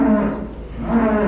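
Dairy cows on a Wisconsin farm moo loudly and close by, a deep, sustained bellow with a dip in the middle before a second swell, against a steady barn background.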